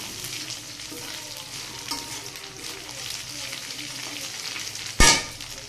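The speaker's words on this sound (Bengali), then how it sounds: "এদিকে মটরশুঁটিটা দিয়ে দিলাম।" Green peas tipped into a hot pan of oil for pulao, beside carrots and potatoes fried earlier, giving a soft steady sizzle with stirring, then a sharp loud burst of hissing near the end.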